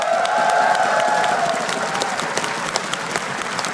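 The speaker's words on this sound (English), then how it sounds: "Round of applause, please." An esports arena crowd at a CS:GO semifinal gives a loud, sustained round of applause that fills the space, with a faint voice cutting in briefly over the clapping.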